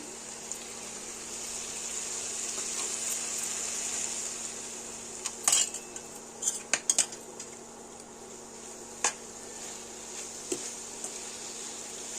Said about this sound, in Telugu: కొత్తిమీర వేసుకొని కొంచెంసేపు కలబెట్టేసుకుందాం